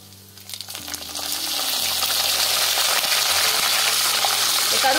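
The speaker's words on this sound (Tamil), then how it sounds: "கருவேப்பிலையை சேர்த்துட்டு நல்லா வதக்கி விட்டுடலாம்." Curry leaves drop into hot oil with browned ingredients, and a loud, bright crackling sizzle surges up within the first second and then holds steady and dense to the end.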